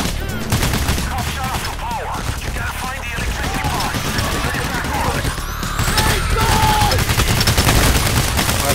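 Sustained gunfire in a Payday The Heist bank-counterfeit mission played on Hard: rapid, overlapping bursts of shots fill the whole stretch, loud and close, growing heavier toward the end, with players talking now and then underneath.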